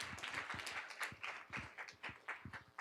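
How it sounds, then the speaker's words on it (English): Scattered applause from a small audience at a board of education meeting, uneven claps rising and falling over a few seconds, moderately loud and fairly close. "Round of applause."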